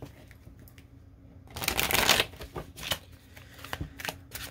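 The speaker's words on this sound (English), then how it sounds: "while I'm shuffling" A deck of Talisman Oracle cards is shuffled close up, quiet handling first, then a loud riffling burst followed by several shorter flicks and snaps.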